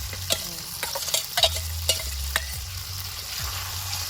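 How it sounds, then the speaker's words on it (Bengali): Fried potato and taro are tipped into sizzling spice masala in a pan over a village fire by a river, giving a soft sizzle with scattered clinks and scrapes over a low, intermittent rumble. "এবার এই আলু ভাজাটা দিয়ে দিচ্ছি কচু ভাজাটা আলু আর কচু"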